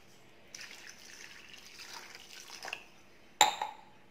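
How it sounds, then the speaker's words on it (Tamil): Water is poured onto broken palm jaggery in a vessel, a soft, steady trickle for a few seconds, followed by a sudden brief clatter of the container. It is close, fairly quiet and without speech. "இதில் போய் தண்ணியை ஊற்ற போகிறேன்."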